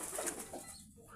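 Pigeons kept in a loft give soft, low cooing over a brief stretch, faint and close, with a light rustle that could be shifting wings; nobody speaks.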